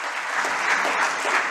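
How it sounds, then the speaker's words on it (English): Steady applause from an audience at a talk show, a dense wash of clapping hands that holds evenly for the whole stretch without a break. "So give a grand applause for all of us."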